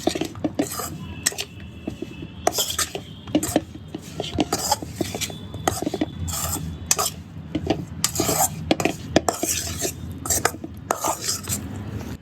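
A spoon scrapes and clinks steadily against a bowl as chicken is mixed with masala for a crunchy chicken fry, making rhythmic close-up stirring and rubbing sounds with no talking.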